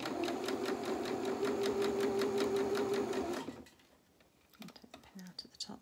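A sewing machine runs at a steady, even pace for a few seconds while stitching a curved seam on French knickers, then stops, leaving quiet handling noises.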